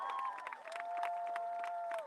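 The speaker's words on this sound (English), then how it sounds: "One more big round of applause for Mayor MacArthur and the city government and Jerry Jones and the Jones family." A crowd at the Dallas Cowboys training camp opening ceremony cheers and applauds, with scattered claps, shrill whistles and voices blending into a continuous outdoor roar.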